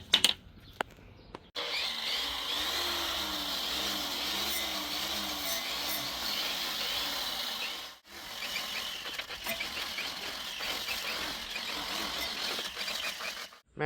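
Tack welding on the frame of a Toro Loco C30 tow truck gives a steady crackling buzz for several seconds, a brief break, then another sustained crackling run, close and even in level.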